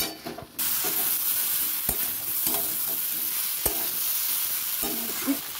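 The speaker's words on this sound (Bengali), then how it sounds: "এবার আমি ইঁচড় আর আলুগুলো এর মধ্যে দিয়ে দেবো, ভালোভাবে কষিয়ে নেব" Chunks of young jackfruit and potato are stirred and sautéed in a pan: a continuous close sizzle with repeated sharp spatula scrapes and clicks against the metal, and no voices.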